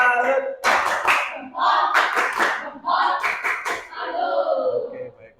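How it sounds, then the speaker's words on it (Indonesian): A few sharp hand claps ring out in a classroom during a teacher's performance assessment, scattered in small bursts between voices that keep talking throughout. "Beri tepuk tangan, Doni. Tepuk tangan."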